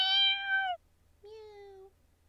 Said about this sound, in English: There was a white feline at the branch of a tree. It kept on meowing as if it can't go down.